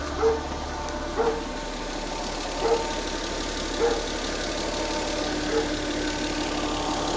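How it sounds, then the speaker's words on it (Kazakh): A GAZelle van fitted with a 2JZ engine idles close by with a steady low hum, while faint squeaks or knocks recur roughly every second or so, fitting a worn gearbox bearing; no one speaks. "коробканың өзінен бір пачимнигін дауыс шығып тұр ғой"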